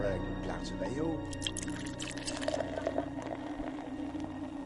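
Beer poured into a glass at a bar as a sound effect, a liquid gurgle and fill over a low steady background hum.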